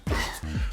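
During a tire workout, a person breathes out forcefully twice through the mouth, two short, loud, breathy rushes of air heard up close.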